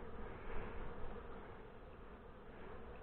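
Honey bees orienting in the air around their hive, a dense, continuous buzzing hum of many insects close by that holds steady throughout, with no voices.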